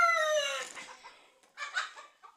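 Pure desi gavran chickens on a poultry farm: a drawn-out, crow-like call opens, then a few short clucks follow close by and fairly loud, with no talking.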